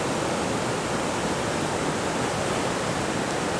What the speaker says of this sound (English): Look at the power of that water.